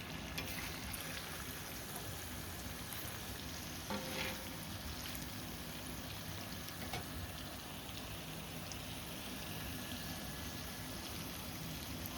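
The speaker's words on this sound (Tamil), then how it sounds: "இப்போ மீனை திருப்பி போட்டுக்கலாம்." Masala-marinated fish frying in a pan as it is turned over, a steady soft sizzle with faint clinks, continuous and fairly quiet.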